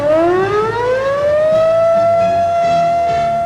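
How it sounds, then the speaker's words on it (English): A loud, steady coastal tsunami warning siren winds up in pitch and then holds a sustained wailing tone, heard alone. "the warning responsible for that siren on our coast is now canceled"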